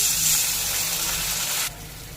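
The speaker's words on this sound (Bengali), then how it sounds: "সবজিগুলো ভাজা হয়ে গেছে, এবার অল্প একটু জল দিয়ে দেব।" Water splashes into a pan of fried papaya and potato, setting off a loud broadband steam hiss that cuts off abruptly near the end, leaving a softer simmer.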